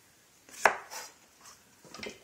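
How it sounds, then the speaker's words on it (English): A kitchen knife cuts through an eggplant on a cutting board during preparation of a Lao spicy algae salad, giving a few quiet, close chopping taps, one sharper than the rest. "Just cut in half, slice it."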